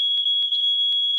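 An Arduino-based embedded alarm gives a steady high-pitched electronic tone, loud and continuous, broken by faint periodic clicks.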